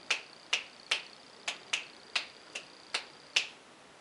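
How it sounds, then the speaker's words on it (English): A single person claps out a dotted rhythm line during a music lesson, about nine sharp, close claps spaced unevenly over four seconds, with no talk. "So let's just clap this line"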